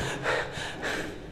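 A person imitates panting, out-of-breath gasping: three quick, close, loud breaths in a short burst.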